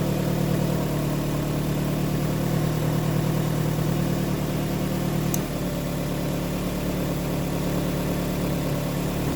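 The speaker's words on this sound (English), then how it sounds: "So as the alternator heats up, you can hear it kind of winding a bit more" A running 2.5 L engine in a 2006 Nissan X-Trail idles steadily up close, with an alternator whine woven into the constant hum and a slight shift in tone about halfway through.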